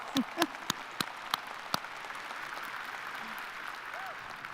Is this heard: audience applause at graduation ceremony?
yes